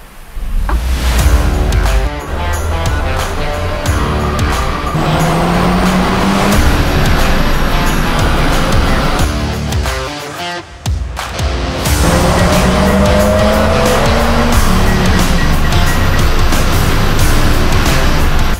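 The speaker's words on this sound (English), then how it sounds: "So now let's dyno the car and see what it does." A Mercedes-AMG A45S runs on a dynamometer while down on power. Its engine and exhaust roar loud and close through two sustained full-throttle pulls, with pitch climbing through each and a short lift-off between them.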